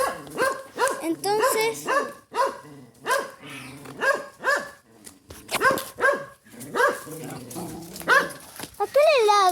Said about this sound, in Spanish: ¿a qué le ladran?